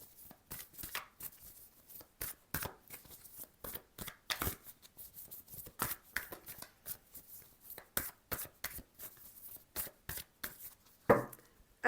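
Oracle cards being shuffled and cut on a table: a long run of crisp, rapid riffling and slapping flicks in uneven bursts, close and fairly quiet, with no voices.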